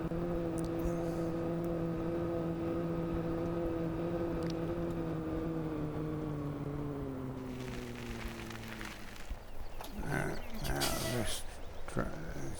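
A 1960s-era tractor engine in a farming video game, a steady droning hum with layered tonal harmonics that slowly sags in pitch, then gives way to clunking, rattling mechanical noises, with a voice talking over it.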